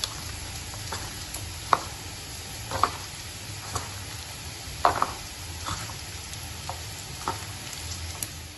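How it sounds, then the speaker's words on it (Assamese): Sliced okra for a crispy ladyfinger fry is worked by hand with salt and spices. It comes through as close, steady moist rustling and squishing, with scattered soft clicks and taps, and no voices. "এতিয়া এইখিনি ভালকৈ হাতেৰে সানি ল'ম।"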